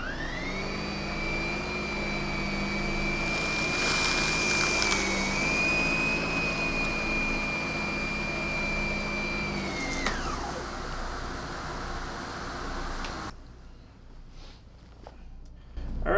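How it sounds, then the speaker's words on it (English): A Lindhaus PB14 cordless anti-tangle vacuum head on a DB9000 dual-motor central vacuum picks up cat litter, pet hair and cereal with a loud, steady whine and a brief pitch rise. It cuts off near the end, leaving quiet room noise. "this was hooked up to my DB9000 dual motor central vacuum"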